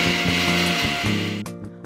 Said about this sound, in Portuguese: Coloque no liquidificador o leite zero lactose, o óleo e o ovo